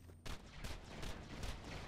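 An Unkempt Harold gun fires in Borderlands 2: a run of sharp blasts, roughly five evenly spaced bursts over loud game sound, with no voice over it.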